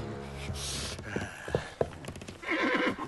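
A horse whinnies loudly in an animated Russian cartoon about Ilya Muromets, a shrill rising neigh with snorting bursts and a few hoof clops, close and clear with no talk over it.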